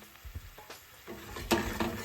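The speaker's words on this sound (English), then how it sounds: "We're going to go ahead and add in the first little bit of butter." Butter melts and sizzles in a pan of capers and tomatoes on medium-high heat for snapper piccata, a steady close frying hiss with soft stirring scrapes and no talking.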